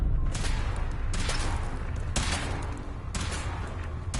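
Weapon fire during a suit test in a Fallout 4 game scene set in the Commonwealth: a rapid, loud burst of shots repeating in four distinct volleys about a second apart, with a low rumbling bed underneath.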